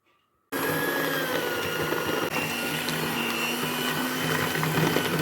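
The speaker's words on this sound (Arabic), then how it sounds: "هاخد الزبده وهحط عليها السكر البودره اهو، وهضربهم بقى بالمضرب كويس" An electric hand mixer beats butter with powdered sugar, switching on abruptly after a short quiet moment. It then whirs loudly and steadily up close with no talk.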